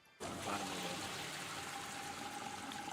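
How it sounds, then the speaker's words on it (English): Water draining from a reservoir in the Luigi's Mansion video game, a sudden onset of steady rushing, gurgling flow that continues evenly, close and moderately loud. "I just need to drain water right here"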